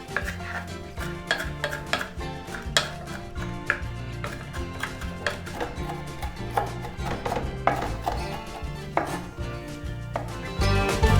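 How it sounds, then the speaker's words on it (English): A knife chops fresh cilantro on a board for a homemade burger mix, giving quick irregular knocks and taps throughout, fairly close and clear with no talking. "let me chop up the cilantro"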